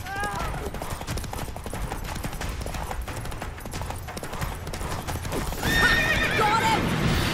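A horse gallops in The Witcher 3 Wild Hunt, with rapid, steady hoofbeats, a sharp neigh near the end and scattered combat sounds, while a voice speaks over it.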